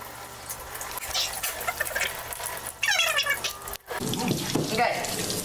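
Cold water runs steadily from a laboratory tap while someone rinses their eyes, a continuous splashing hiss close by, with a voice briefly audible partway through.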